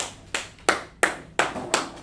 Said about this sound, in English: Clap it up for Mike